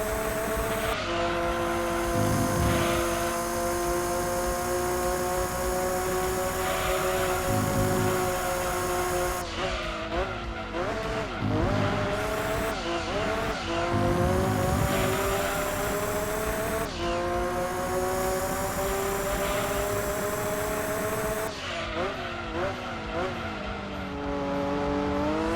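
Race car in the PlayStation game Gran Turismo 2, a steady high engine drone that rises and drops through gear changes and braking into corners, with occasional tire squeal, loud and continuous throughout.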